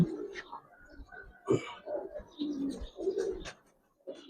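Giribaz and coloured pigeons on a rooftop loft, cooing softly in low throaty rolls close by, with a few flutters and faint voices in the background.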